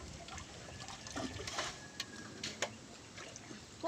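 Fast-flowing water rushes in a steady, faint wash with occasional splashes and knocks, no talking over it.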